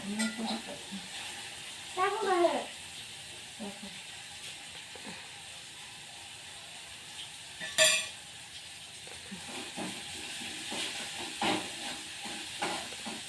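Rice being stirred in a thin pot over steady sizzling and hissing steam, with occasional clinks and brief voices in the background.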